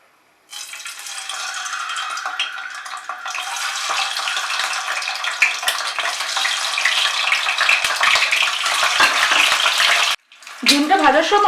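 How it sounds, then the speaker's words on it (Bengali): Eggs drop into about three tablespoons of hot mustard oil in a wok and burst into a loud, close, continuous sizzle that crackles on steadily before briefly cutting out near the end. "এবারে আমি প্রথমে ডিমগুলোকে ভেজে নেব।"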